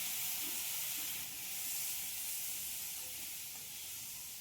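Pumpkin pieces with turmeric sizzling in hot oil in a pan while white brinjal is cooked: a steady bright hiss and crackle throughout at close range, with no talking.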